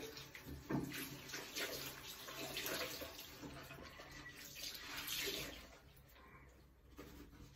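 A tap runs steadily into a sink while someone rinses their face, a soft continuous splashing stream with faint irregular splashes, heard close but quiet.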